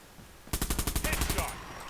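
A rapid burst of about a dozen evenly spaced shots from a weapon in the online shooter Bullet Run, loud and close, starting abruptly after a quiet moment.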